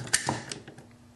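AR-15 upper receiver with a chrome bolt carrier group being popped open: a couple of quick close metallic clicks and a faint creak, quiet and brief.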